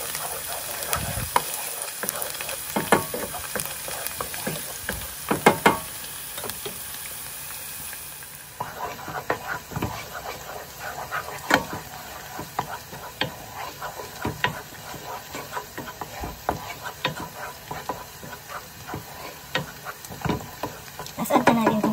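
Garlic fries in a pan while a utensil stirs it, giving a continuous sizzle broken by frequent scraping clicks and taps against the pan.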